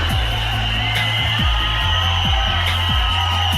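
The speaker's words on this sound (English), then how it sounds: "Ladies and gentlemen, a round of applause for Miss Mexico." Pageant crowd at Miss Universe 2025 cheering and applauding, a loud dense roar of voices and clapping with a recurring low rhythmic beat underneath.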